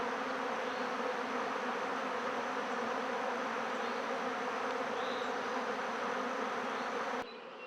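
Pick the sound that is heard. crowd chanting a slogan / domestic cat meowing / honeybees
honeybees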